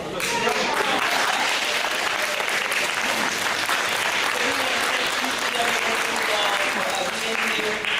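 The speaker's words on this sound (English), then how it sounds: "can we have an applause for the panelists?" Sustained audience applause for the panelists at a mental health and wellness summit, a dense steady wash of clapping from a sizable crowd lasting throughout without pause.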